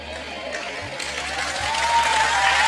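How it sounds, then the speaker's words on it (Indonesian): An audience at a church sermon breaks into applause, a steady wash of clapping that swells slightly and holds without a pause. "dibela langsung tepuk tangan"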